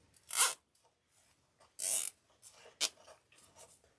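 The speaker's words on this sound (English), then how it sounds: "I am going to just go ahead and use the pipe cleaner and my zip tie together" A plastic zip tie is pulled tight around a pipe cleaner at close range, giving a few quiet, short ratcheting zips with brief gaps between them.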